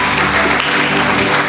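A church congregation claps during a Telugu Christian Sunday sermon, a loud, dense, steady burst of applause for about a second and a half, with no speech over it.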